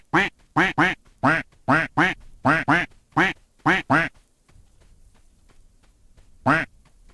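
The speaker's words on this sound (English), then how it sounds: "Now that you can quack before shooting the ducks, you have to as well because that's what they do." Cartoonish duck quacks from the video game Escape From Duckov, a rapid burst of about a dozen loud, close quacks in quick succession, then a pause and one more quack, with no talking.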